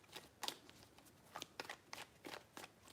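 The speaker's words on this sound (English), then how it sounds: "3 shuffles." Tarot cards are shuffled in several quick riffling bursts, soft crisp flutters of paper, close and quiet, with no one talking.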